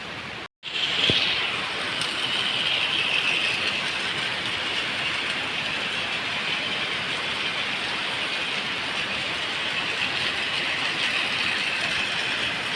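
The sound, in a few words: toy train engine running on a round track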